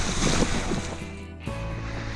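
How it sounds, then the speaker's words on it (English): A wave breaks and splashes over a sailboat crossing Bass Strait in winter, a loud burst of surf and spray with wind rush, easing before a second wash of water. "I took a wave all over my freshly laundered pants."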